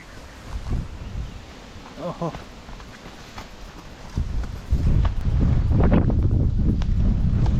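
Horse hooves clip-clop steadily on a trail to Banganga Waterfall over a windy outdoor background, growing louder and busier toward the end; people talk now and then.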